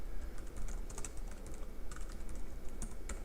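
Steady typing on a computer keyboard while writing code, with quick irregular close clicks over a constant hum of background noise and no speech.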